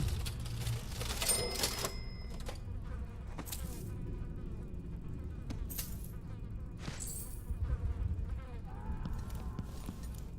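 Cash register in the video game Dishonored 2: a few sharp metallic clacks and rattling mechanical bursts, moderately close, over a low ambient hum and scattered small clicks and tones.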